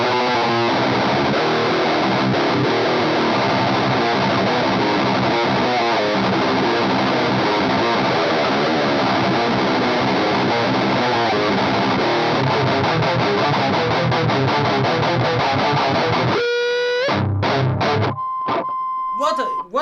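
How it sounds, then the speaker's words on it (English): A heavily distorted electric guitar runs through a Metal Zone pedal straight into the power amp of a Marshall JVM 410. A dense, loud wall of chugging riffs plays throughout, ending with a few sparse, ringing notes. "What you're hearing is the pedal straight into the power amp of this Marshall JVM 410"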